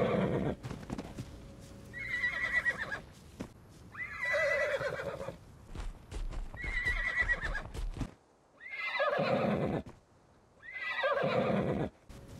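A horse in a desert survival video game whinnies and neighs repeatedly while being tamed, with several loud, separate calls spaced a few seconds apart and soft hoof clip-clops between them.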